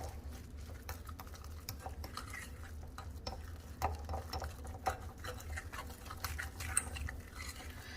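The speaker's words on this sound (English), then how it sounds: "I'm going with a heaping tablespoon of cornstarch. And just continue to mix that." A heaping tablespoon of cornstarch being stirred into a tuna and potato patty mixture in a bowl, with soft, continuous scraping and mixing clicks over a steady low hum, no talking.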